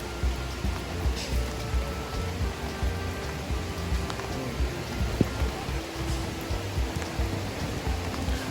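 Rain falls steadily in Ob Luang National Park in Hot district, Chiang Mai, Thailand. The hiss of drops on the surroundings is even and continuous, with a faint watery rush beneath it and no talk.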